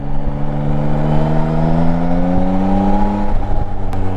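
A 2023 Yamaha Tracer 9 GT motorcycle is ridden, its engine note holding a loud, steady drone that climbs gradually in pitch as it pulls, close and continuous, without speech.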